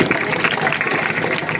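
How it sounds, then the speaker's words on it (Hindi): Applause from students at a school motivational talk and quiz event in a village, a dense, steady patter of many hands clapping that fills the whole short stretch without a break. "उनके लिए जोरदार तालियों से स्वागत किया"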